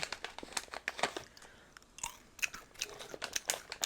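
Close, crisp gum chewing with wet, irregular clicks and squelches in a quick, uneven rhythm, and no talking.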